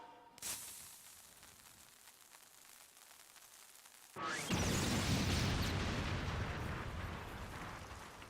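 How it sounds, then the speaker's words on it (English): Explosions go off outside during a wedding scene in a Final Fantasy game: a sharp distant boom early, then a louder blast that gives way to a sustained rumbling roar. "Cannot imagine a wedding and they're just explosions outside."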